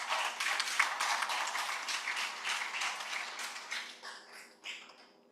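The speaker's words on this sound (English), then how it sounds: "I thought the applause from the NIA in the house would be louder than that." Audience applause at an international conference on ECOWAS, a steady wash of many hands clapping for several seconds, fairly faint and distant, thinning out into a few scattered claps at the end, with no talking over it.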